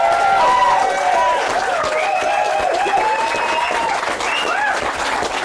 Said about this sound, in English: let's have one final round of applause for our two great special guests, Alex Shane and the lovely Jasmine